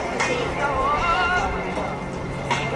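Horses working in an arena at a horse expo, with a brief whinny rising over a steady mix of hooves and crowd murmur, the sound fairly loud and continuous throughout.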